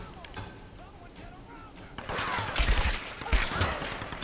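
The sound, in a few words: gunfire in video game Tomb Raider Definitive Edition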